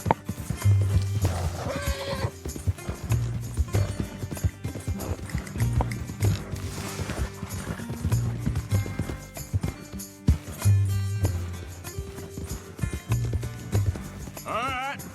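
Horse hooves clip-clop with an occasional whinny in the video game Red Dead Redemption 2, laid over a busy game soundtrack with steady music and effects, with talk in the scene.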